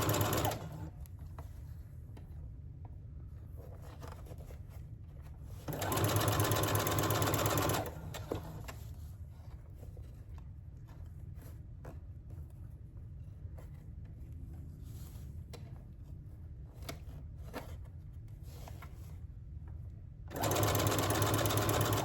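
A sewing machine stitches along a saree edge in two loud, steady whirring bursts, one early and one near the end, with quieter handling and background noise between them.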